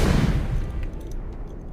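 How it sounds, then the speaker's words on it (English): A distant explosion rumbles through a space station, a loud low boom at the start that rolls off into a long, dull decaying rumble over about two seconds. "there is the sound of a distant explosion"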